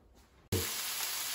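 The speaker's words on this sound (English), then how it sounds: "as you can hear, the oil is sizzling" Oil sizzles loudly in a frying pan on a stovetop set to high heat, ready for broccoli; after a brief quiet moment a sudden bright hiss bursts in and holds steady and close.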